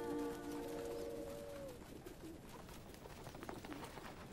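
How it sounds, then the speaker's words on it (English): Pigeons coo in a festival scene of the Final Fantasy IX video game: a soft, rolling coo at the start, then fainter scattered bird sounds over quiet game ambience, with no talking. "she can get the pigeons to come say hello to her"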